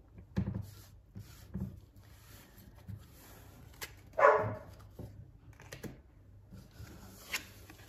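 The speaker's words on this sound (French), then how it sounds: "Mes chiens sont en forme, hein, si vous les entendez." Several dogs bark and yip in short scattered bursts while squabbling over food, with one sharper louder outburst midway and quieter scuffling between, fairly close with no talking.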